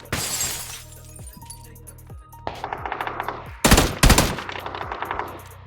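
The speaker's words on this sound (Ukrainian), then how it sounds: "Десь вони отам стрілялися, не знаю." Gunfire in the video game PUBG, with bursts of rapid automatic shots and loud cracks mixed with shattering glass, fairly close and intense, followed by further rattling fire.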